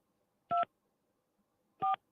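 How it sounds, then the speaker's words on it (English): Two separate telephone keypad tones sound about a second and a half apart, each a short, clear beep over near silence. "What a dial. Good dialing there."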